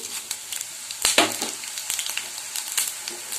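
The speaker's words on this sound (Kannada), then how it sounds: "ಎಣ್ಣೆ ಚೆನ್ನಾಗಿ ಕಾದ ಮೇಲೆ ನಾವೆತ್ತಿಟ್ಕೊಂಡಿರೋ ಎಲ್ಲ ಮಸಾಲೆ ಸಾಮಗ್ರಿಗಳನ್ನು ಏನು ಮಾಡ್ತಾ ಇದ್ದೀನಿ ಸೇರಿಸ್ತಾ ಇದ್ದೀನಿ" Spices sizzle and crackle as they are added to hot oil for a traditional katina saaru, with steady frying hiss and sharp spattering pops close by.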